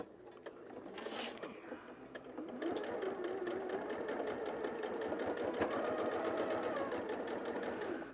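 A sewing machine stitching around the edge of a small quilted pillow runs in a steady, rapid mechanical whir close by. It grows slightly louder and more even after the first few seconds and keeps a continuous rhythmic hum with no talking.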